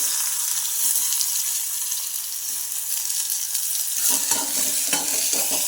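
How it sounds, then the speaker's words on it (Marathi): Chopped onion fries in hot oil with mustard seeds and cumin in a kadhai, a steady broadband sizzle; from about four seconds a spatula stirs it, adding scraping clatter over the hiss. No one speaks. "कांदा असा का हलवायचा असा छान असा परतला पाहिजे"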